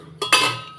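A small pressure cooker's lid is closed, giving two quick metallic clanks up close, the second louder and ringing briefly before fading.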